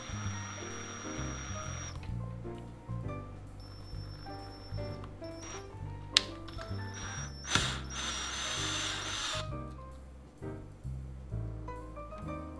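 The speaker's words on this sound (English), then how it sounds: "Then I continue to make the hole." A drill bores a hole in an Amiga computer keyboard case, its motor whining in bursts that start and stop, with a few sharp clicks and scrapes close by.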